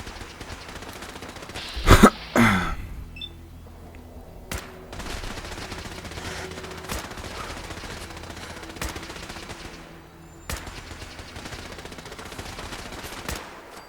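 Gunfire in the video game Fallout 4, a couple of loud close shots early on, followed by scattered fainter sharp cracks over a low ambient hum.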